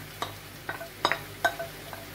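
Rice being stirred in a pot on a stove after chicken broth has been added, with a few soft scraping and sizzling strokes scattered over a couple of seconds, faint and close with a low hum beneath.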